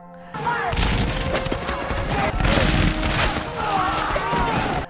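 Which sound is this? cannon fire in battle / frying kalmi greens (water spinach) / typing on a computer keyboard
cannon fire in battle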